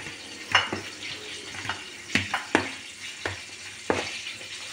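A spoon scrapes and taps in a bowl while stirring strained yogurt with ekşimik cheese and salt, producing irregular soft clacks and wet swishes, close and quiet.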